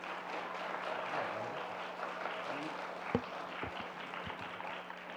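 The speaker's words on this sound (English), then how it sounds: "Give them a good round of applause this morning." An audience applauds a guest at a Christian school chapel service, a steady, moderate wash of clapping with a few sharper claps near the end and a low hum underneath.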